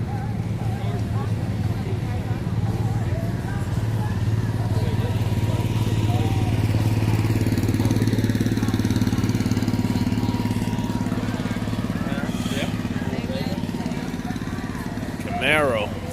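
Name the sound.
1969 Chevrolet Camaro engine with big tube headers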